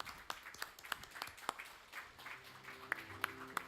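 Scattered clapping from an audience at a church service, a thin spread of individual claps rising and falling over a few seconds, fairly faint and distant with a low hum beneath.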